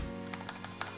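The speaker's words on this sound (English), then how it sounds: "then you want to type in the name of the segment" A computer keyboard being typed on, a quick run of light key taps close by under a faint background hum, with no voices.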